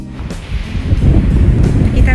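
Gusty wind in snowy weather in England buffets the microphone with a low, roaring rumble that swells and surges, close and loud, with a voice faintly heard beneath.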